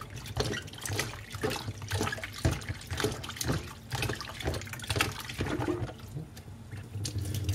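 Raw prawns rinsed under running tap water for har gow dumplings, a steady stream splashing into a bowl or sink with bursts of sloshing and stirring as the prawns are washed.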